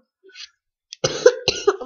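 A person coughs a few times up close, short harsh bursts with a throat-clearing edge after a faint breath.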